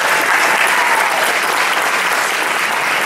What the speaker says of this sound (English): Great round of applause for these fine contestants.